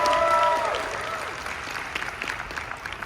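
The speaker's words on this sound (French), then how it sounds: "a big round of applause, everyone" Applause from the audience at a Disneyland Paris Christmas press event, starting with a brief whistle-like tone and then fading into a steady, moderately loud clapping that slowly thins out.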